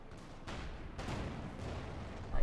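A Flakpanzer and an Ostwind anti-aircraft tank fire in the Company of Heroes 2 strategy game, a steady rumble of repeated cannon bursts with a sharper shot near the end.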